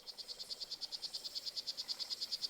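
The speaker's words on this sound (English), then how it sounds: "Being a poison dart frog parent is hard." Poison dart frog calling in a fast, steady series of short high-pitched chirping pulses, about eight per second, clear and continuous against a quiet background with no talk.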